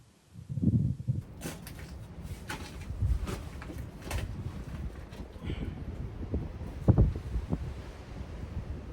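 Strong wind blowing outdoors at a cave campsite, buffeting the microphone in steady rumbling gusts with occasional louder bursts and scraping handling sounds.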